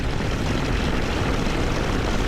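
A 2024 Harley-Davidson touring motorcycle on a ride gives a steady, loud engine roar mixed with wind rush, holding an even level throughout without a distinct separate rev spike.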